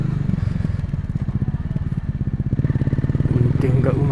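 Honda CRF250L motorcycle engine revving as the throttle opens, a close, steady rhythmic pulsing that swells louder toward the end, with a voice talking over it.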